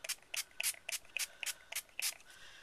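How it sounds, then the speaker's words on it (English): Stampin' Up! mist is pumped from a small spray bottle onto an inked rubber stamp in about nine quick, faint spritzes in a fairly even rhythm, close by and alone. "you just use Stampin' Up! Mist."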